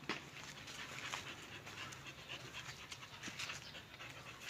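A dog pants quickly and steadily close by, breathy rhythmic huffs continuing throughout with no talking.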